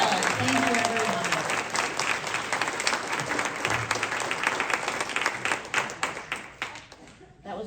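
Sustained applause from a crowd at a Democratic primary candidate forum, many hands clapping in a dense, even wash that thins and fades toward the end, with some voices blended in.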